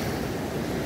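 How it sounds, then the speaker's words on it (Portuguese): Agitated water from the rapids of the Itajaí-Mirim river in Botuverá churns against the riverbank, a steady, close rushing wash with wind-like noise and no talking. "A água chegando até aqui na beirada, né? Toda agitada. Por aquela correnteza ali, ó."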